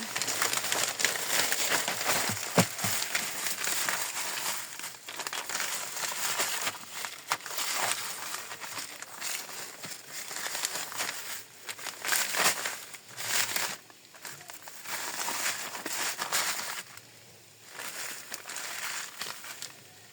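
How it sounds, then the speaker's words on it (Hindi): Crinkling plastic of a zip-lock bag holding frozen parathas as it is pressed and sealed shut, a long run of close, irregular rustles and crackles with no speech. "ज़िप लॉक इसका भी अच्छे से बंद करेंगे।"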